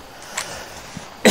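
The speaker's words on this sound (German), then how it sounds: "dass ich hier schniefe und huste und so" A person with a cold coughs, first in a few faint, scattered throat sounds and then in one loud, close, harsh burst at the end, with no talk.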